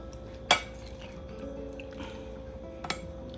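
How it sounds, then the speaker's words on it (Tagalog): A spoon clinks against a dish while mixing kinilaw with lemon, two sharp metallic taps about two seconds apart over soft, wet stirring and quiet background hum. "Tapos mix. Mix yun na guys."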